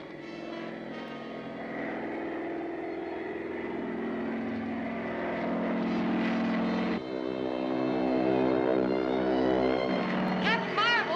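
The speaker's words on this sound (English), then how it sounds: "I can hear the plane coming." A propeller plane drones overhead in a 1941 serial, its engine hum swelling louder and nearer while people talk over it.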